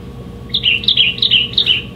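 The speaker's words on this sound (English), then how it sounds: "And the olive warbler" An olive warbler sings a short series of clear, high whistled phrases, four or five repeated notes in quick succession over a quiet background hum.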